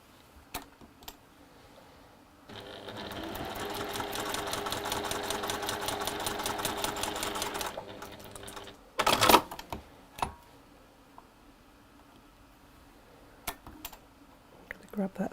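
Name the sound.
sewing machine sewing a fabric square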